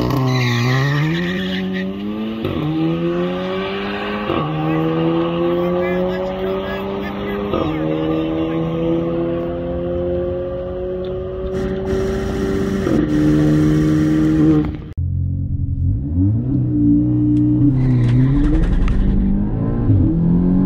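A Stage 2 Audi S3 at a grassroots drag race at Island Dragway: a loud close engine revs hard through repeated rising gear pulls with brief shift breaks, then settles to a lower drone, with voices faintly mixed in.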